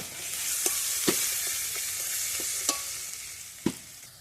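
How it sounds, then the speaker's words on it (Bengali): Ground spice paste fries in a pan for a sour, spicy shol fish and mango curry, with a steady hiss of sizzling oil broken by sharp clicks of a spatula stirring. "বাটা দিয়ে আবারও ভালোভাবে একটু ভেজে নেব, যতক্ষণের কাঁচা গন্ধটা চলে না যাচ্ছে"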